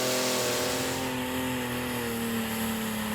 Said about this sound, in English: Good wheel speed, the tractor's nicely settled.